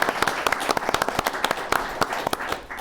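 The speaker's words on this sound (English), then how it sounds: "So let's give him a round of applause." Audience at a Chamber of Commerce talk event applauds steadily, with many overlapping claps of sharp individual hand strikes throughout, close and moderately loud, fading slightly at the end.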